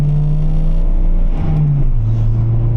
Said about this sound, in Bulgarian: 27 годишна японска кола, имаме си шумови вибрации навсякъде